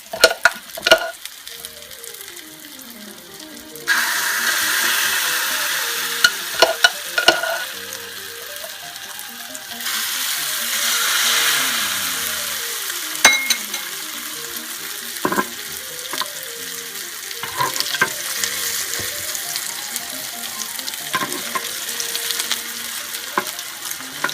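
Egg and parsley fritters fry in hot oil in a special pan, with a continuous close sizzle that swells and fades and is broken by occasional clinks and stirring noises, with no talking.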